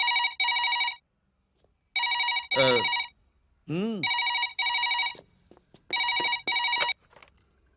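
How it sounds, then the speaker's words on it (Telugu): A telephone rings with an incoming call, sounding loud, close, repeated bursts of electronic bell tone separated by pauses, with brief swooping tones and a faint voice between rings. "పావు గంటలో రింగ్ ఇస్తానంది"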